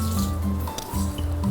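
Water poured into a pot of half-cooked Andhra-style chicken pulao, a steady close liquid rush with gurgling that continues throughout over a low background hum.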